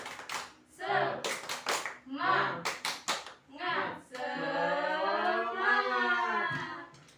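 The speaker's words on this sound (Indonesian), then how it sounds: "kita tepuk semangat dulu ya. Tepuk semangat." A class claps a quick rhythmic pattern in bursts while children's voices chant along, ending in a long drawn-out shout together.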